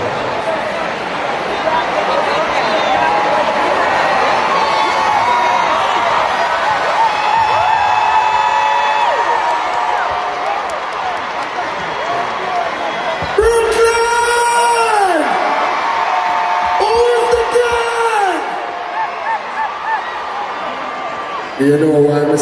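Large concert crowd at Barclays Center in New York for a show, a sustained roar of cheering and whooping throughout, with a loud voice calling over it in a few bursts.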